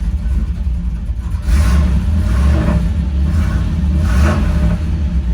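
A small-block Chevy V8 fitted with a new exhaust rumbles loudly and deeply up close, idling steadily with a few gentle rev blips swelling the throaty note.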